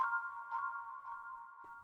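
A mallet accent sample, pitched down two semitones and slowed, rings as a soft sustained tone, with faint delayed repeats trailing behind it, quiet and alone.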